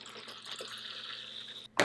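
Distilled water poured into a container for soap making, a soft, steady trickling stream that runs quietly for over a second before a sudden louder splash at the end.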